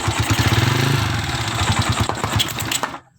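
A Honda Sonic 125 motorcycle with a custom-built exhaust revs up close and loud, its uneven, throbbing engine note rising and falling across several blips before the sound drops away at the end.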